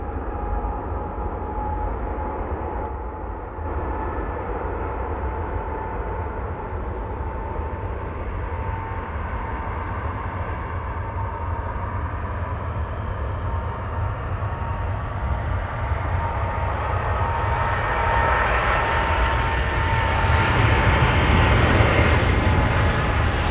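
A Swiss airliner powers up for takeoff at LAX, its jet engines giving a sustained low roar with a faint high whine, growing gradually louder and harsher toward the end from a moderate distance.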